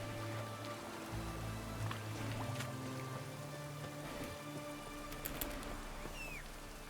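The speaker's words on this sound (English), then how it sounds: "It's fucking raining already." Rain falling in the video game The Witcher 3, a soft, constant patter with faint dripping and occasional small chirps, quiet and even throughout with no talking.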